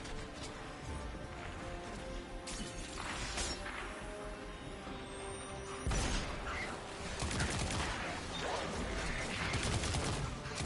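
Dense, continuous in-game gunfire and combat effects from Destiny 2 on PS5, a busy wash of shots and impacts that grows louder partway through.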